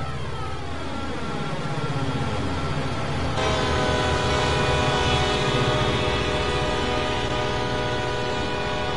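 Diesel freight locomotive on the Sand Patch Grade in Train Sim World 2, a steady loud engine drone with layered tonal harmonics that thickens midway as a horn-like tone joins, continuous with no talk.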